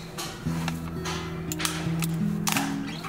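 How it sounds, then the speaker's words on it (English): A spudger pries along the seam of a Baseus PowerCombo Pro GaN power strip casing, producing a series of close, sharp plastic clicks and snaps over a steady background hum. "First, use a spider to pry along the gap."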